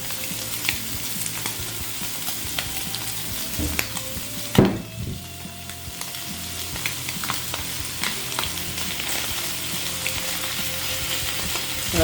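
Small diced potatoes fry in a pan for chowder, giving a steady, fairly loud sizzle broken by repeated scrapes and a sharp clack of the spoon being stirred against the pan. Nobody speaks.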